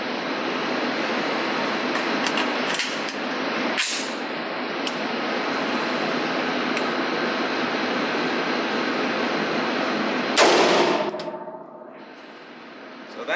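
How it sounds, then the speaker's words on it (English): An unsuppressed AR-15 rifle fires a single loud, sharp shot late in the clip, and its crack rings out over a steady background rush of wind or ambient noise that fades after the blast. "basically what it sounds like when you shoot an AR-15 unsuppressed"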